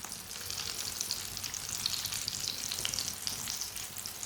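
Kebabs browning in a frying pan give an even, hissing sizzle with fine spattering crackle throughout, moderately quiet, close and continuous, with no speech.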